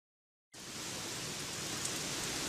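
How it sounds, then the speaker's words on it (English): Steady, dense rain falling after a sudden start, a continuous even hiss with no voices. "It's raining cats and dogs again."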